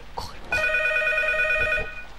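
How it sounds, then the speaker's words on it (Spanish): A telephone rings with a bright electronic trill in a horror video game demo, one sustained ring lasting over a second. A player shouts excitedly before and after it. "¡El teléfono! ¡Que le acabo la demo! ¡Coge el teléfono!"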